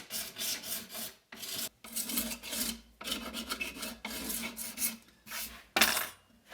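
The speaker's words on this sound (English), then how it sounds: "putting little longitudinal scars in the back of this bow just to increase the surface area and give that glue a good place to hold on to" A rasp scrapes along the back of a wooden bow held in a vise, roughing the surface in quick repeated strokes separated by short gaps, close and fairly quiet.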